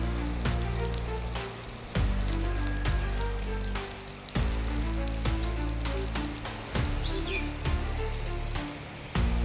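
Heavy, continuous monsoon rain around a swollen, overflowing stream in a village in Mudigere taluk, a steady near wash of water with repeated sharp knocks and patters cutting through.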